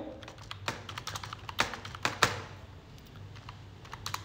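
Invoice number being typed on a computer keyboard, a quick run of close, crisp key taps with uneven rhythm and a few louder strokes, over a low room hum with no talking.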